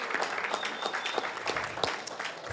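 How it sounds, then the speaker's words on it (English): Audience at a city council meeting applauding student athletes, a dense burst of many hands clapping in a large room, steady and moderately distant. "Give our men another round of applause"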